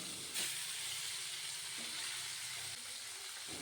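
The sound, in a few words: rupchanda pomfret fish frying in hot oil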